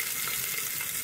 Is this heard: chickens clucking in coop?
no